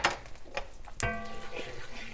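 Pesto being stirred in a large skillet over medium-high heat, with scraping and clinking of a utensil against the pan, one sharp metallic knock midway and faint sizzling underneath, close and fairly loud.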